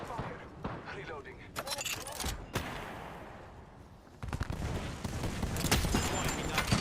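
Video game gunfire rattles in rapid bursts, with dense automatic fire and sharp individual shots coming close and loud, easing briefly in the middle before a heavy barrage builds again.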